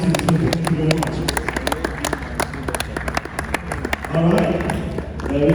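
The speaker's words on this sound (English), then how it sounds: "Please keep clapping for this legend and this great dancing." Audience at a boxing event in Lagos clapping for a legend, a close burst of rapid hand claps and crowd noise mixed with people talking loudly over it throughout.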